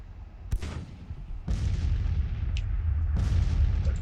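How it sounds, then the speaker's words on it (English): Napoleon 12-pounder cannons firing in Grand Tactician, an American Civil War battle: three distant, heavy booms at spaced intervals, each followed by a long rolling rumble that lingers, with no talk. "Let the artillery do their job."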